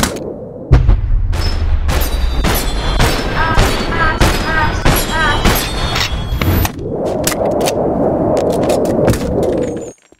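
Shots fired in the VR game Boneworks ring out as a rapid series of loud, sharp bangs with a heavy low thump at the start, then give way to a steadier roar near the end.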